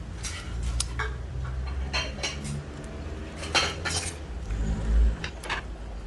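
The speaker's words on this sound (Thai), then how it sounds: "เราก็จะนำช้อนมาขูดเพื่อที่จะให้ผิวข้างในมีความเรียบค่ะ" A metal spoon scrapes the inside of a hollowed-out pineapple shell, smoothing the flesh, in repeated close, gritty strokes with clinking contact between passes.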